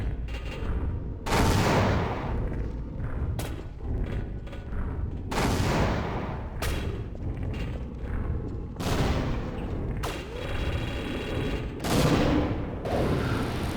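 Repeated grenade explosions in the video game Half-Life, a series of loud booming blasts every couple of seconds, each followed by a rumbling decay.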